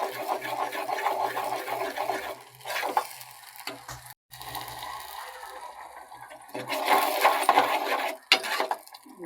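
Aloe vera gel stirred by hand into oil in a pan, a steady scraping swish with soft sizzling bubbles that pauses briefly, then resumes louder near the end.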